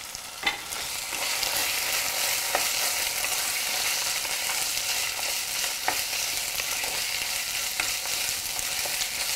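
Chopped onion sautés with ginger and garlic in a hot pan, a loud, steady sizzle and hiss with occasional stirring scrapes and taps, close and continuous throughout.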